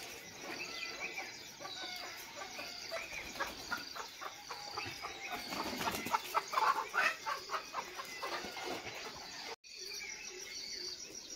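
Farm chickens cluck in scattered bursts at moderate distance, with a denser run of clucking midway, over a steady background of chirping crickets in a rural setting during the rainy season.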